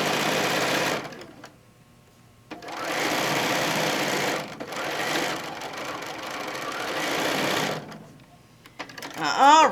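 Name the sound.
sewing machine stitching quilt pieces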